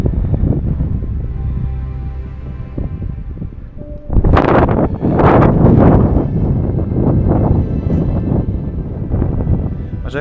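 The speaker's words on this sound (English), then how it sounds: "I was hoping to be out of the wind a little bit just here" Wind gusting across an exposed Peak District hillside near Howden Reservoir, a steady low rumble that rises into louder buffeting roars on the microphone about halfway through.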